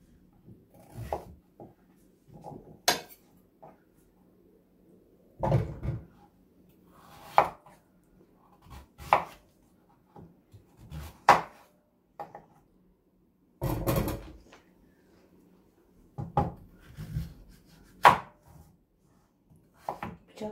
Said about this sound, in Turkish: Evet, şimdi sütlacımızın kabaklarını dilim dilim keseceğiz.